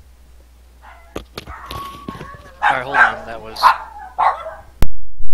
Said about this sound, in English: I apologize for the dog going off.